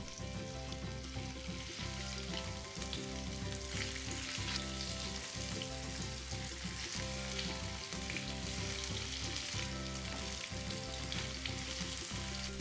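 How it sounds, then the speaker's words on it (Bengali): Paneer fries in hot white oil in a frying pan with a loud, steady, close sizzle that runs unbroken, with no talking. "তেল গরম হলে আমি পনিরগুলোকে ভালো করে ভেজে নেব।"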